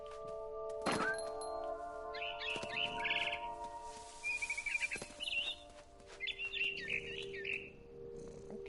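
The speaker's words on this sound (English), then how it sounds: "Then I heard chirping outside my window. It was a barn swallow going back to her nest." Barn swallow chirps from the video game What Remains of Edith Finch: quick, high twittering bursts repeating over a faint ambient background, with a few soft thuds and a low hum, and no talking.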